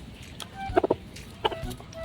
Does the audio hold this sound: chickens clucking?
yes